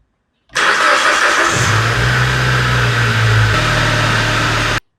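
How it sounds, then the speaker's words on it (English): A direct-injection car starts up and its engine idles and revs steadily at close range, the mid-pitched engine note shifting slightly partway through before cutting off abruptly. "take it for a test drive."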